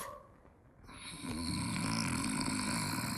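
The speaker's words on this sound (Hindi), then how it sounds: "I hate snoring." A person snores loudly in a Bollywood comedy scene, a steady rasping drone that swells after a quieter start and continues without talk.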